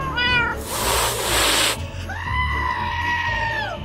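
A cat in the game Minecraft lets out loud, realistic meows: a short call, then a harsh hissing burst, then a long drawn-out wail, all close and prominent.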